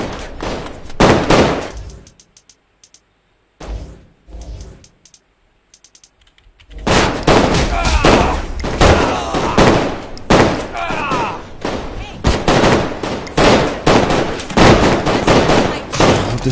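Bursts of rapid fire from a newly hacked-in gun in the Saints Row IV video game, loud and repeated, starting after a quiet stretch with a few sparse shots.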